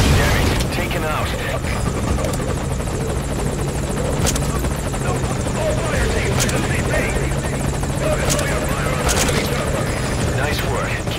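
A helicopter hovers nearby in the stealth game Metal Gear Solid V: Ground Zeroes, a loud, continuous rotor drone with a low rhythmic thrum under game sounds and occasional voices.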